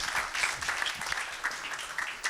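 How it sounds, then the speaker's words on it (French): A moderate, fairly distant audience claps in a brief burst for student participants at a youth event. "Donc oui, on applaudit tout le monde"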